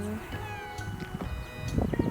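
A cat meows among other cats outdoors on an island, short mews mixed with a voice talking and imitating the meowing.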